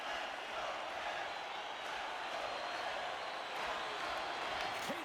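Steady roar of a hockey arena crowd at a tied Flyers versus Penguins playoff game, a dense continuous wash of voices and cheering with faint muffled commentary underneath.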